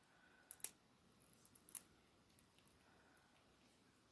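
Jewelry pliers snipping off the end of a head pin while making a necklace: one or two sharp, tiny clicks close by, then faint handling ticks in a quiet room.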